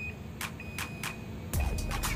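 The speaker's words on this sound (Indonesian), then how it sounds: "kulkas ini sudah dilengkapi dengan door alarm" Door-open alarm on a Hitachi R-WB640 refrigerator: a series of short, evenly spaced high electronic beeps, clear and close, with a brief handling bump partway through and no talking.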